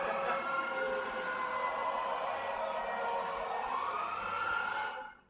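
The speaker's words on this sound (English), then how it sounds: "There's the English siren to kind of get us going." A fire engine's English-style siren wails steadily while the truck drives through traffic, a loud continuous two-tone sweep that holds for several seconds over engine rumble before cutting off abruptly.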